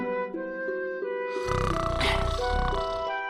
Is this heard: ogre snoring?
yes